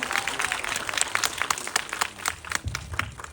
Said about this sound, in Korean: 오늘 박수 부탁드립니다